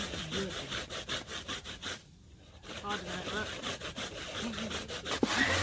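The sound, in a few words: grating extracted coconut by hand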